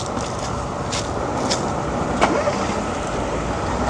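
Car traffic slowing and stopping at roadside traffic lights on a hill road near Sedgley, heard as a steady broadband hum of engines and tyres with a few soft passing swells, no talk.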